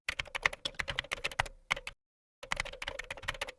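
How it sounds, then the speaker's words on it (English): Rapid, irregular keystrokes on a computer keyboard as a comment is typed into a review tool, close and crisp, in two bursts split by a short silent pause, with no talking. "If you want to add a comment, you can type in your comments here"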